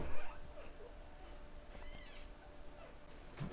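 A pet cat meows faintly a few times in a quiet room, with short, soft calls rising and falling over low background hiss.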